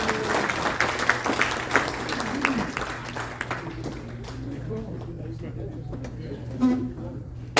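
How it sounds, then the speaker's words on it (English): An audience at a talk about America's Cup sailing claps in a loose, scattered burst that thins out after a few seconds, with a voice speaking over the clapping. "let's have the clapping again"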